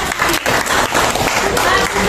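Students in a classroom give a round of applause, a loud, continuous patter of many hands clapping at once throughout.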